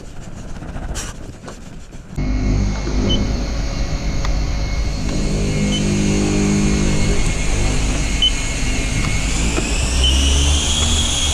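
A car engine starts and idles steadily inside a garage, a loud low rumble holding after a brief rough start, with a faint higher whine rising toward the end.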